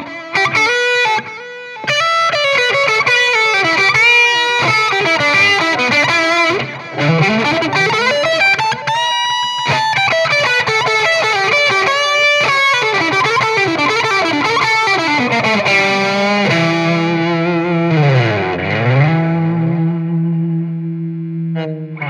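Kazuki electric guitar at full volume and tone, heavily distorted with echo and chorus effects, playing chords and lead lines that bend and slide, loud and continuous with a brief pause near the start.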